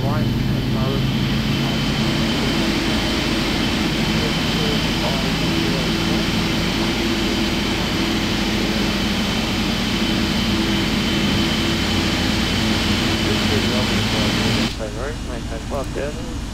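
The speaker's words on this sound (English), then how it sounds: "Looks like the engine number 1 is good." The jet engine of a PMDG 777-200LR in a flight simulator runs at a steady, loud, droning whine with tonal hums, constant throughout, before the level drops slightly near the end.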